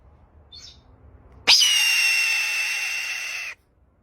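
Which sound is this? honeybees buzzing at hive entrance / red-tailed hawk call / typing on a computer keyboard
red-tailed hawk call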